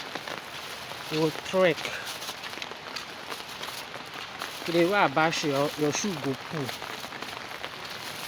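Steady rain falling during the rainy season, a soft broadband hiss that continues throughout beneath two bursts of close conversational speech.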